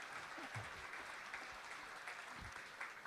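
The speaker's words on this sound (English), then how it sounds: "let me hear some cheering right now for this young man, for what he's doing here" Audience applause and cheering at a six-board simultaneous chess exhibition with Magnus Carlsen, a steady broadband wash of clapping held at moderate level across the whole stretch.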